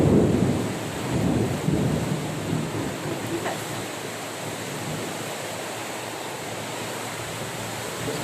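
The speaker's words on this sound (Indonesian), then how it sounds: "meskipun dilanda hujan yang agak deras" Heavy rain with a deep rumble of thunder at the start, the downpour's dense hiss continuing steadily and loudly throughout with no voices.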